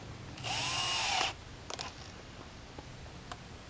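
A cordless drill whines steadily for about a second at a sawmill workshop, then stops, followed by a few faint clicks and handling knocks.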